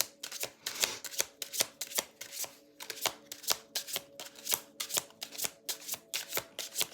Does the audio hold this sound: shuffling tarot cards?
yes